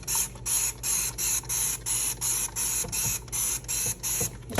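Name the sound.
spraying Dawn Power Wash dish spray on air fryer basket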